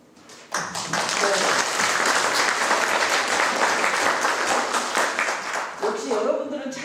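An audience in a small parliamentary conference room applauds at a political party's policy-institute launch talk show, sustained dense clapping swelling in after a brief pause and holding steady before a voice returns.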